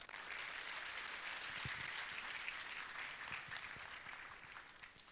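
A conference audience at a tech-park event applauds founding partners with a soft, steady wash of clapping, a few sharper claps standing out, gradually easing toward the end.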